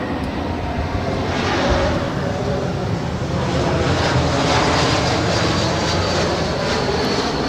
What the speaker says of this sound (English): And this is Delta Airlines 1420 coming in from Portland, Oregon. It is an A220-300.